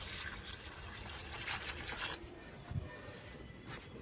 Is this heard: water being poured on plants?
yes